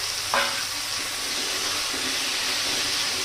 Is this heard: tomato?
yes